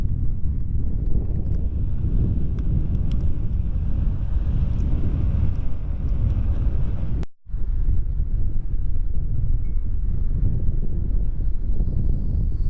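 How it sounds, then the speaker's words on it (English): Steady, loud wind buffeting the microphone while riding a Onewheel Pint electric board into a headwind, a continuous roar broken by one brief dropout near the middle. "Unfortunately, I had a headwind."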